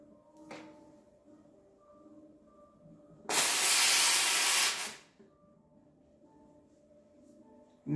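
The no-burn steam wand of a Rocket Appartamento espresso machine lets out a loud, steady hiss for about a second and a half, set between quieter stretches of low machine hum and faint clicks.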